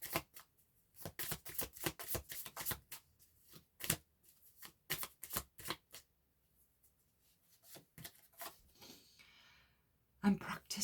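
Tarot cards shuffled by hand for a reading, a run of quick, crisp riffling bursts in steady rhythm, close by, with pauses and a soft voice murmuring briefly near the end.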